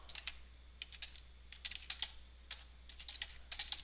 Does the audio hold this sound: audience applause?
no